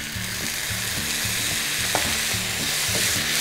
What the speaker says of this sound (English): The vegetables are stir fried on a high flame.